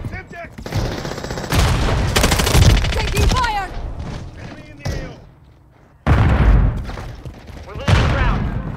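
Gunfire in Call of Duty MW3 multiplayer: loud close bursts of automatic fire and heavy thuds that come in clusters, break off into a brief lull, then start again, with game voice callouts and effects mixed in.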